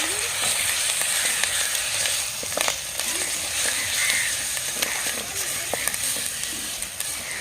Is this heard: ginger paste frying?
yes